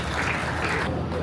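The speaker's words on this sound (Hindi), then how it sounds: "बहुत सुंदर जोरदार तालियां हो जाए हमारे बच्चों के लिए।" Brief burst of audience applause for children at a patriotic corps foundation day celebration, a thick wash of many hands clapping that thins out toward the end of just over a second.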